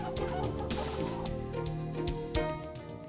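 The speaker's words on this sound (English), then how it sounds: "what I love about these birds is this lacing, hence the name silver-laced Wyandotte" A flock of silver-laced Wyandotte chickens, a gentle dual-purpose American breed, clucks and gabbles faintly at close range in a backyard setting, with several overlapping bird calls and no talking.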